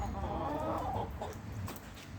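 A chicken clucks nearby in short, throaty bursts, with a faint bird call in the background.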